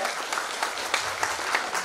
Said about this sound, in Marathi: पंकजदादांसाठी पण एकदा जोरदार टाळ्या होऊ द्यात